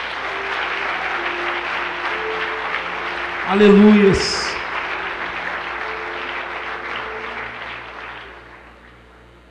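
Church congregation applauding during a sermon, a long steady wash of clapping with a preacher's voice over it and cheers rising briefly in the middle before fading.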